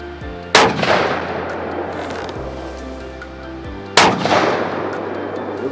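Two loud, close rifle shots from a Bergara rifle with a carbon stock and a new scope, fired at a target in mountain terrain, each a sharp crack followed by a decaying rumble, a few seconds apart.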